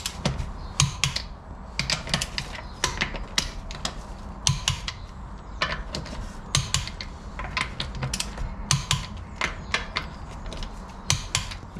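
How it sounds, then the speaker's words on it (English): A torque wrench tightens wheel nuts on a BMW in a cross pattern, making close, sharp ratcheting clicks in short irregular bursts separated by brief pauses. "we're going to do an initial tightening to 50 or so newton meters"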